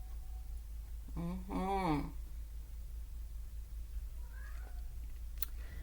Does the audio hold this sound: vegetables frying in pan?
no